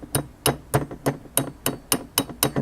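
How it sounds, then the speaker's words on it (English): A small hammer lightly taps a pin into the trigger assembly of a Browning Double-Auto shotgun. About nine close, crisp metallic taps fall at a steady, even rhythm, with no talking. "Now with the hammer, I'm going to lightly tap it on this side."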